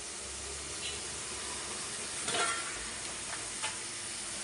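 Noodle sauces, chilli, tomato and soy, frying in a pan, a quiet steady hiss with a few brief louder sizzling bursts and a stir near the middle, no talk.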